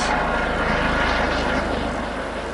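A helicopter passes overhead above a mountain hiking trail, a loud continuous rotor drone with steady low chopping pulses throughout.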